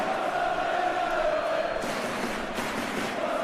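Stadium crowd in a football video game roaring and murmuring in appreciation, a continuous swell of many voices with brief rises in excitement.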